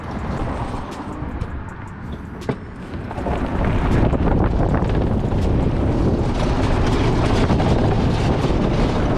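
A golf cart running on new lithium batteries accelerates and drives along outdoors, a steady broadband rush of motor and road noise that swells after a quieter start and holds loud, with wind buffeting the microphone.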